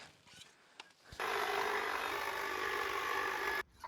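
Hedge trimmers cutting back an ivy-covered garden wall: after a few light rustles, a motor buzzes steadily and fairly close for a couple of seconds, then cuts out abruptly.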